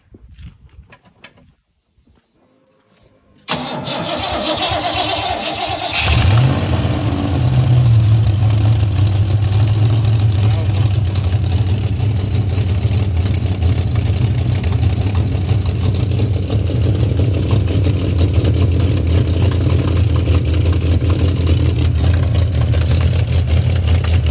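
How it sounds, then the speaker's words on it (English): A carbureted Foxbody Mustang engine cranks briefly, catches and roars to life, then settles into a loud, steady idle that continues without pause. "hopefully it'll crank off and have spark once all is said and done"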